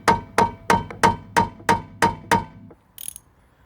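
A socket wrench ratchets on an 8mm socket, loosening a tight brake bleed nipple on a Ford Fiesta Mk6: seven sharp, evenly spaced metallic clicks close up, then a faint rattle.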